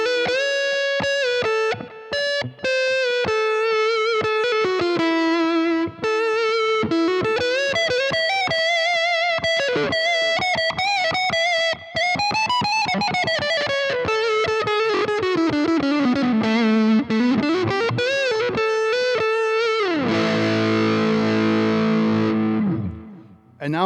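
A LyxPro electric guitar on the neck and middle pickups, with the middle tone rolled off, plays a fast distorted lead line of bending, sliding notes, then ends on a sustained chord, loud and close throughout.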